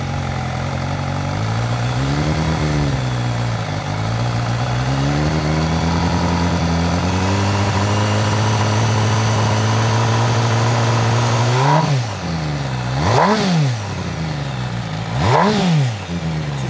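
An MV Agusta Brutale 1000RS motorcycle engine idles with a throbbing, wavering note, then revs sharply three times near the end, each rev rising and falling back.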